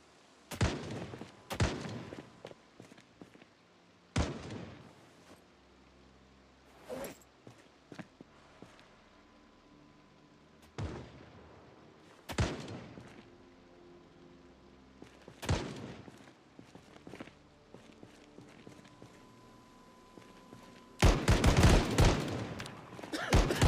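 Scattered gunshots in the zombie survival game Project Zomboid, a dozen or so sharp cracks at irregular intervals, a few heavier and nearer, with a dense burst near the end over low background game noise.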